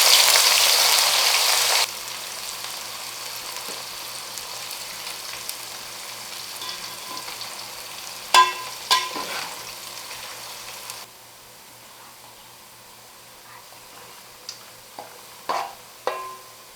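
Onions fry in hot oil for mutton yakhni pulao, a loud hiss at first as they go in, then a steady softer sizzle with a few sharp stirring knocks, close by.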